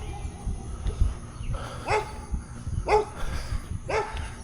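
A three-legged dog barks in short, sharp bursts, several distinct barks spaced about a second apart and fairly close, over a low rumbling room background with no speech.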